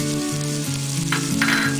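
Chopped onion and garlic frying in hot oil for a Bengali lentil and greens dish, a steady loud sizzle with a brief stirring scrape partway through, no voices.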